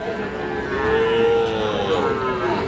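A calf at a busy cattle market lets out a long, drawn-out moo close by, rising and falling over the steady murmur of the crowd.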